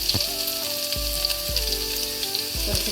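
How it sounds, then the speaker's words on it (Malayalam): Small onions sizzle in hot coconut oil for a mackerel fish curry, a continuous crackling fry heard close up with a tonal musical bed underneath and no speech. "എണ്ണ നന്നായിട്ട് ചൂടായിട്ടുണ്ട് ഇതിലേക്ക് നമുക്ക് ചെറിയ ഉള്ളി"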